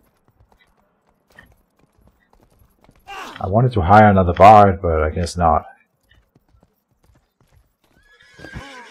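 A horse neighs loudly in the video game Rustler, a burst of a few seconds with a rising, shaky whinny. Someone speaks briefly before the whinny and again just after it.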